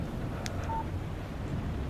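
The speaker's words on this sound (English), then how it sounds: "Text message from Barry" A short phone text message alert from the video game Alan Wake Remastered, a brief electronic chime over a soft, steady background hiss.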